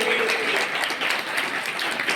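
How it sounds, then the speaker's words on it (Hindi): Loud, sustained applause from an audience at an annual school programme, cheering the girls who trained in health and hygiene, with dense clapping throughout and faint voices underneath. "जितने बेटियां हैं अच्छे से जोरदार तालियां"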